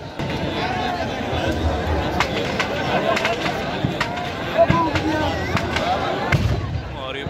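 Firecrackers keep crackling and popping as a Ravan effigy burns at a Navratri fair. The sharp pops are scattered over a dense, noisy crowd, and people talk throughout.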